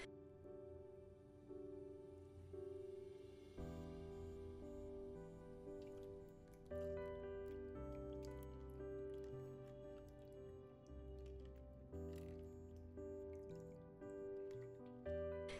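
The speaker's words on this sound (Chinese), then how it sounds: "简单的给它清洗一遍之后" Shanghai bok choy leaves are rinsed in a basin of water with salt and baking soda, producing quiet, close drips, squishes and small splashes in an irregular rhythm.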